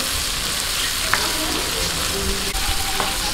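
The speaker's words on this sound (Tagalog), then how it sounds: "pwede na po natin ihalo itong ating pork na kasama na sa paggisa" Pork and tomato sautéing in a hot pan for a Filipino ginisang labanos dish, a steady close sizzle and crackle with a few faint utensil clinks and stirring scrapes.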